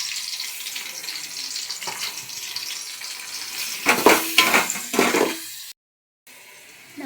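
Sliced onions frying in a pan for home-made biryani, stirred with a spoon. A soft, steady sizzle builds into louder scraping stir bursts near the end, then cuts to a brief silence.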